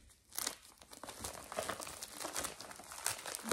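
Plastic packaging from an AliExpress parcel crinkling and rustling as it is opened, close but quiet, an irregular run of crackles with no talking.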